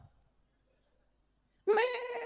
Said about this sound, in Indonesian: kambing itu kalau mengembik saja, itu ada 3 jenis embikan kambing